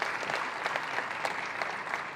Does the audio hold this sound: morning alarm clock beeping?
no